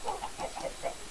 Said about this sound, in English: We need more chickens.